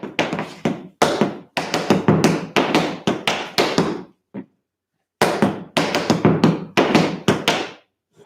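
Tap shoes in a tap dance class strike a wooden floor in quick bursts of steps and spanks, sharp close clicks in rhythmic groups separated by brief pauses, with no talking.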